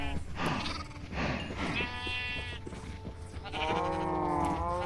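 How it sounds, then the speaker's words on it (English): Minecraft sheep bleat several times in close succession, loud and near, over a low game background. "And now we get to work breeding our sheep."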